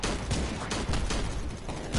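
Submachine gun fire in a video game crackles in quick, dense bursts over two seconds, loud and close.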